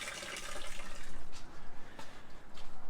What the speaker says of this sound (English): Just gotta drain all the water out of it now and wipe it down, cover it up.